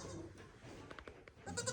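A goat bleats in a barn near the end of the clip, a loud wavering cry that follows quieter rustling and faint clicks.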